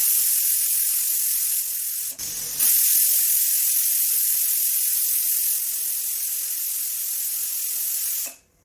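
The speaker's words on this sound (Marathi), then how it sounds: "मध्यम आचेवर आपल्याला कुकरच्या दोन शिट्ट्या करून घ्यायच्या" A pressure cooker cooking pumpkin on medium heat lets off a loud, steady hiss of escaping steam for several seconds, with a brief dip partway through before it cuts off.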